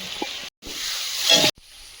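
Chopped onions and tomatoes with salt and turmeric frying in a pan, giving a steady bright sizzling hiss that cuts out briefly twice and swells louder toward the end, with no talk.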